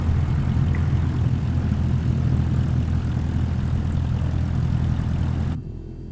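Aircraft engine drone in Microsoft Flight Simulator as another airliner passes behind, a steady loud low propeller-and-engine rumble filling the clip before cutting off abruptly near the end, no talk.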